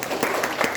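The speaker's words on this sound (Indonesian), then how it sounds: "Bapak Ibu tepuk tangan untuk kita semua." Brief applause from an audience at an Indonesian seminar on AI tools for academic productivity, a steady wash of clapping at moderate level lasting under a second.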